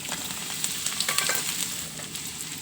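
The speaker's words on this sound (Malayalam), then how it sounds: "മൂത്ത് വരുമ്പോൾ കുറച്ച് കടുക് ഇട്ട് കൊടുക്കുക" Mustard seeds crackle in hot oil for a pumpkin dish, a steady close sizzle peppered with sharp little pops throughout, no voices.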